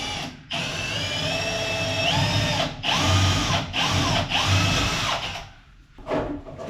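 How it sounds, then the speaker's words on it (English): A power drill bores holes through the floor of a Dragonfly E64 boat under construction: a loud, close, whining motor that rises and falls in speed across several bursts, separated by brief pauses, with no talking. "Scary, drilling holes in the floor."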